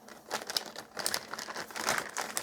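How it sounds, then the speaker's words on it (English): Plastic Ziploc bag crinkling as baby wipes are packed into it, a close, quiet run of irregular crackles and rustles with no voices. "I'm going to take these baby wipes and I'm going to put them in this Ziploc baggie and get out as much of the air as I possibly can"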